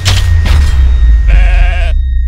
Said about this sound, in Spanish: Esa cabrita es también de la familia.